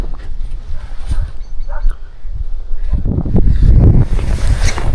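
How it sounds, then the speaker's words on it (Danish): Wind gusts blow outdoors by a summer house, a steady rushing roar that swells louder toward the end, buffeting the microphone with no other clear sounds. "Der er lige kommet lidt mere vind på."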